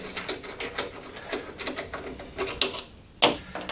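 Orange plastic wing nuts being unscrewed on a P1PE P4600SP lawn mower, a quick run of light ratcheting clicks and plastic rubbing, close and fairly quiet, with a couple of sharper clicks near the end.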